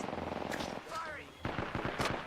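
Gunfire in a shooter video game: a few sharp, separate shots in a short irregular burst, close and fairly quiet, mixed with other game effects.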